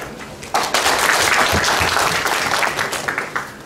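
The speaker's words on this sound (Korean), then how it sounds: "다시 한번 박수를 부탁을 드리겠습니다" Applause from attendees at a briefing on a Jecheon automotive cluster project study, rising suddenly into steady, loud, dense clapping that continues throughout and thins slightly toward the end.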